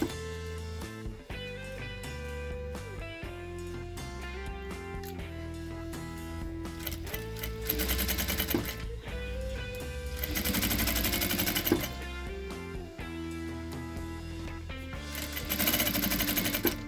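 A sewing machine stitches a shirt cuff in bursts of steady mechanical whirring, starting and stopping over loud melodic background music that runs throughout.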